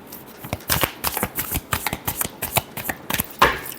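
Tarot cards being shuffled by hand, a rapid run of crisp riffling flicks and soft slaps in close, uneven bursts with no voices.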